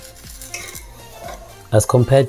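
A crepe cooks in a pan while a soft, steady background runs, then a loud burst of metallic scraping and clattering from a utensil against the pan closes the stretch.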